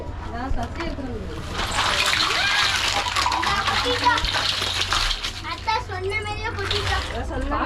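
Water splashes and sloshes continuously while children talk and shout playfully nearby, fairly loud and close.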